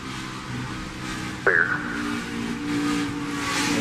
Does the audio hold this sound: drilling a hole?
no